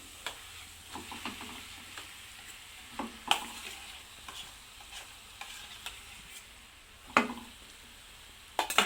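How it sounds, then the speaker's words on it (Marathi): Potato mixture for vada pav being stirred and fried in a pan: a soft, low sizzle underneath irregular scrapes and knocks of a spoon against the pan, quiet and close with no talking. "आता हे बटाट्याचं मिश्रण हे घालणार आहे मी"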